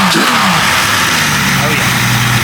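A Jeep 5.0 stroker engine revs under throttle, a loud, close, continuous engine roar that rises and falls in pitch, with a voice briefly heard over it.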